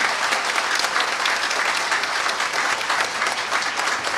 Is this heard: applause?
yes